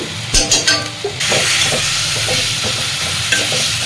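Spice paste for a bata fish curry frying in a pan, a steady loud sizzle after a few stirring clatters at the start, as slit green chillies go into the hot masala.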